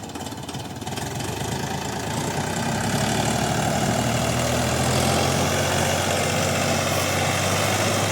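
A new DTZ 354U tractor engine runs loud and close, a dense low rumble with a knocking mechanical edge that builds slightly after the first second and holds steady throughout, with no talking.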